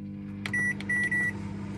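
A microwave oven warms a cup of sprouts in a campervan kitchen, its low steady hum broken by a short run of three bright electronic beeps close by, with no speech.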